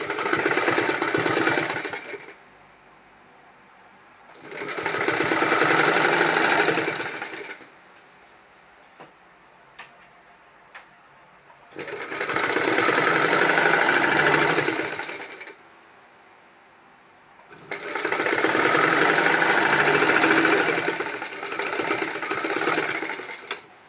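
A sewing machine stitches a yoke pleated nighty in four long whirring bursts, each a few seconds, separated by quiet pauses with small clicks as the fabric is repositioned; close and fairly loud, with no talking.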